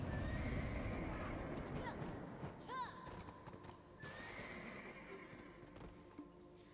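A horse in the video game Black Desert whinnies with a rising, wavering neigh amid a steady clip-clop of hooves, loud and close, over a background of game ambience.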